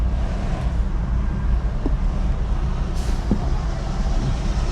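A big city bus rumbling close by in heavy traffic, a loud, steady low engine drone with a short hiss of air brakes releasing midway, no talk.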